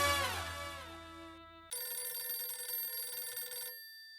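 A telephone ringtone sounds over a phone on speaker during a call, a bright melodic electronic trill that cuts off and then gives way to a steady sustained ringing tone, loud and close with no talk over it.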